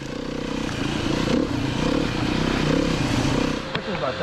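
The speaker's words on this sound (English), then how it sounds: "If you listen to my throttle through here, I'm still chopping it pretty hard, and I don't think the 4-stroke likes that." A Beta 390 RR-S four-stroke dirt bike runs through woods with the throttle chopped hard, giving a steady, close engine drone that pulses and clatters before easing off near the end.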